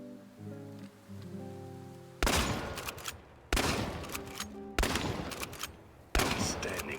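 Four loud shotgun blasts in a video game, each a sharp broadband crack with a decaying tail, spaced roughly a second apart, following a brief stretch of soft tonal game music.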